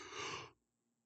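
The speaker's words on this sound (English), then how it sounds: "I'm sorry if you just heard me yawn" One short, breathy yawn sounds close to the microphone, a soft airy exhale lasting about half a second before fading into near silence.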